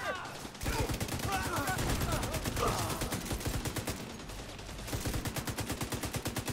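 Rapid automatic gunfire in The Division 2, loud and sustained in dense bursts, with a brief pause before the firing resumes. Players talk over it.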